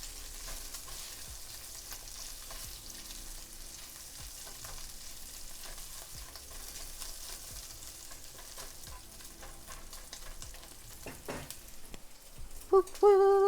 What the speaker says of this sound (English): Can you hear the sizzles?